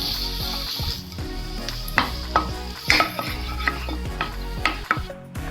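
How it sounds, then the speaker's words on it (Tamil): Tamarind is lightly roasted in a pan, with irregular scraping and clinking of a spoon stirring it over a soft sizzle, close by and with no voices. "லாஸ்ட்டாக நம்ம எடுத்து வச்சுட்டு புளியுமே லைட்டாக ரோஸ்ட் பண்ணிடலாம்"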